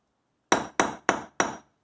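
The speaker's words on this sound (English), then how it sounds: "you take your ball and peen hammer, which is this, your steel block, which is this, and you start hammering away" A ball-peen hammer strikes a metal earring frame resting on a steel block, four sharp metallic blows spaced evenly about a quarter second apart, close and ringing, with no talking.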